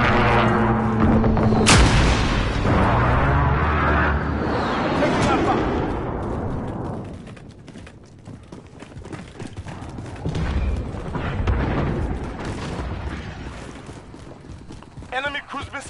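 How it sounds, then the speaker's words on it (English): Precision airstrike explosions in a game match, heavy booms and rumbling blasts near and loud, overlapping with talk and radio chatter. "Friendly precision airstrike on the hostiles have Bravo."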